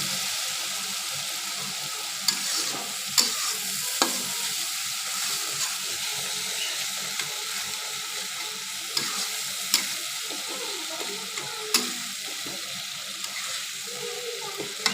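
Onion and tomato masala bubbling in oil for a pangas fish curry, a soft constant sizzle with a few sharp ticks and occasional scrapes, close by and without speech.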